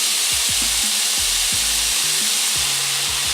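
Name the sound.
pork slices frying in oiled pan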